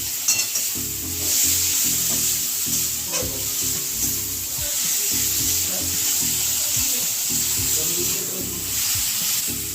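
Tomatoes frying in a pan of spiced masala, a steady loud sizzle with repeated scraping stirs throughout, no talking.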